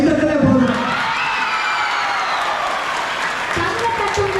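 Audience applause at a Senior Johnians Pongal celebration at St. John's, steady mass clapping with some cheering, near and fairly loud, sustained for the whole stretch without letting up.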